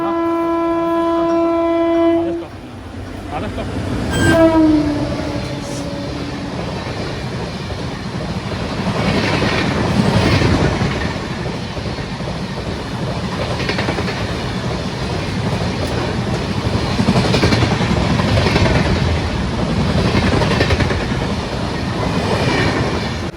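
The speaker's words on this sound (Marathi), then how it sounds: "आपली पनवेल चिपळूण मेमो ट्रेन" A Panvel–Chiplun Diwali special MEMU train runs steadily with a loud continuous rumble and rail clatter, and a horn-like tone sounds briefly near the start.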